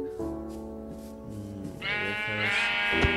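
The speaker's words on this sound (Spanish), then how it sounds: "Ovejas" Sheep bleating in Minecraft, a run of drawn-out, wavering blocky baas close by over steady game background noise, with a sharp click near the end.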